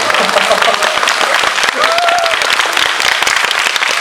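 Audience applause at a Korean film screening and talk event, dense steady clapping filling the whole span, loud and close, with a brief vocal tone rising briefly through it.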